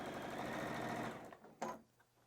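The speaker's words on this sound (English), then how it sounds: "I'm going to fold that fabric over right now while we're talking about it and just stitch this together" A sewing machine stitches quilt patchwork fabric in one steady, fast run lasting about a second, then stops, leaving a couple of faint handling clicks.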